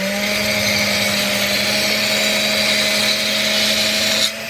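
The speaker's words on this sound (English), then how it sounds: "knife sharpening tool that goes in the drill" A power drill fitted with a knife-sharpening attachment runs steadily as blunt kitchen knives are sharpened aboard a narrowboat, a continuous close whirring drone with a grinding hiss that cuts off abruptly near the end.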